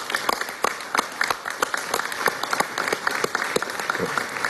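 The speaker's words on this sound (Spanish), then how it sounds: "a quien le pido un aplauso por el gran trabajo que ha hecho" Applause for Secretary General June Sommer at the closing of a regional states' association meeting led by the Venezuelan foreign minister, sharp, distinct claps from a modest gathering, close and uneven, continuing steadily throughout.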